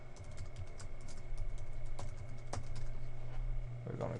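Someone types an email address on a computer keyboard, a quiet run of close, irregular key clicks with a few sharper taps over a faint steady hum.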